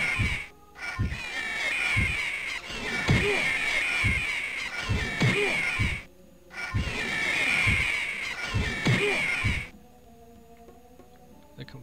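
Harsh, raspy cawing calls from an owl monster in the fantasy role-playing game Anvil of Dawn, repeated in bursts over a steady droning game ambience before the calls drop away near the end.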